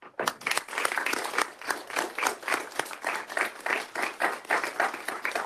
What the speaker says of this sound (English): please join me with a short clap